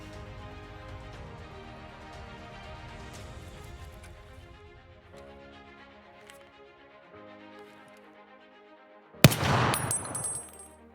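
Near the end a single loud gunshot-like burst stands out as a fake effect for a replica Reshala Golden TT pistol, abrupt and sharp with a brief ringing tail after quieter hum and music.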